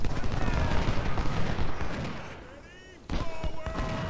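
Civil War battle in the Ultimate General strategy game: dense rolling musket volleys and distant artillery booms, fading to a lull before another burst of gunfire, with someone talking over it.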